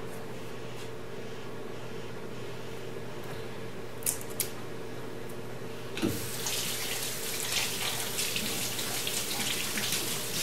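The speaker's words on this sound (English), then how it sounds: "just run it under water and kind of rub it, make sure it's clean it up" Tap water running steadily over vegetables being rinsed and rubbed clean in a kitchen sink, a constant hiss that grows louder and brighter partway through, with a few faint clinks.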